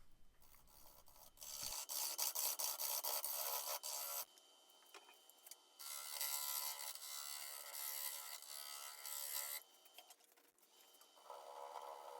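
A woodturning lathe trues up a pine cone resin bowl with a pine rim, the gouge rasping and scraping in loud bursts that start and stop several times over a steady low motor hum.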